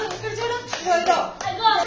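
A little girl clapping her hands, a few separate sharp claps spaced irregularly, heard close up under ongoing talk from adults nearby.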